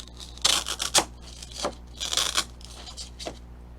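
Blade cutting through floral foam: a handful of close, dry scraping and crunching strokes in short bursts with brief pauses between them.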